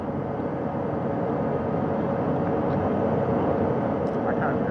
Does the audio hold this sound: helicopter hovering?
yes